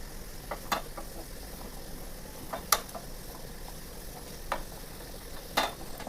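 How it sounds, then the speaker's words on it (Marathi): Finely chopped garlic fries in hot oil for a tadka, giving a steady soft sizzle with a few sharper clicks of stirring, close and quiet with no voices. "तेल गरम झालं की त्याच्यामध्ये बारीक चिरलेला लसूण घेतलेला आहे तो लसूण छान भाजून घ्यायचा आहे।"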